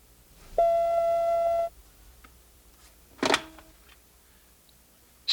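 A single office telephone rings on a line, one steady electronic burst of about a second, followed by a sharp click and a quiet room.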